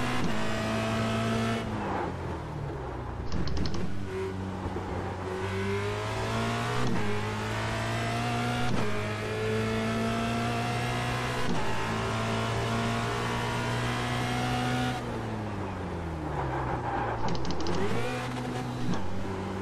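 A Formula Renault 2.0 single-seater race car engine in the iRacing simulator, revving loud and steady, its pitch climbing through each gear then dropping sharply at the upshifts and downshifts, with no voices.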